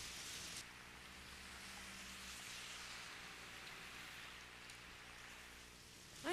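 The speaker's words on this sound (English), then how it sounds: "No, I like the rain." Soft, steady rain hisses evenly throughout, a quiet wash of falling drops with no voices.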